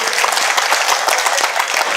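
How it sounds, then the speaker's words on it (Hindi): Loud, close applause from a gathered Indian audience at a religious event, brisk overlapping claps with distinct individual hand strikes in a quick, even rhythm, no talk. "आपकी आशीर्वाद की तालियां इन तक पहुंचे, बड़ी तालियां पहुंचे"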